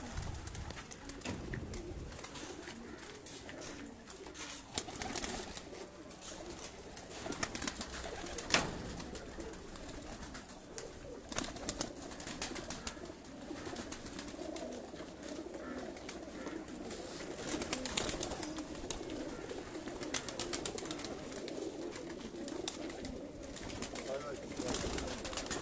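Blue-barred pigeons of a racing loft coo steadily throughout, a soft low rolling call repeating at moderate volume, with faint background voices and occasional sharper bird calls.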